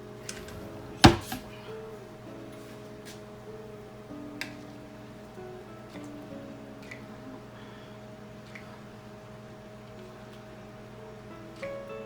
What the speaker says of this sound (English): Let me mix it and see if I need to do anything to it.